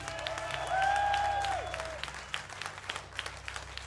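Crowd applause and some cheering at a hardcore music festival, a steady dense wash of clapping that swells and then thins into scattered claps, with a held feedback-like tone from the stage above it early on.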